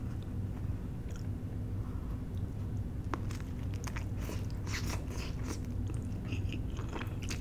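Someone bites and chews a cast iron seafood pizza up close, crisp crunches and soft chewing sounds building in the second half over a steady low background hum.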